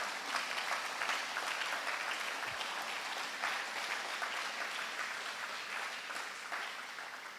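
A church congregation bursts into sustained applause, dense steady clapping that holds loud and even throughout, with no speech over it.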